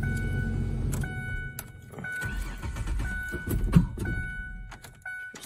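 A gasoline vehicle's engine is cranked and fires up amid clunks and metallic rattles, with several short bursts of cranking and engine noise stopping and starting close by; no one speaks.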